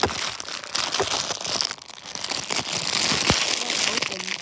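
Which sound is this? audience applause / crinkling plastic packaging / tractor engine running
crinkling plastic packaging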